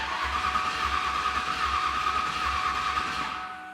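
An 800-horsepower Cobra Mustang abandoned for 20 years cranks but fails to start, a loud steady rhythmic starter whir with pulsing engine turnover that fades out at the end.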